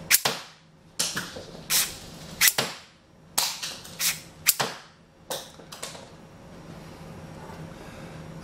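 A HEXBUG VEX Robotics Gatling toy launcher fires off a series of sharp snapping shots with brief mechanical whirs between them, close and fairly loud, in a quick uneven rhythm with no one talking.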